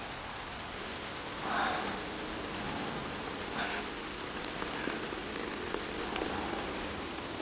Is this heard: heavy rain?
yes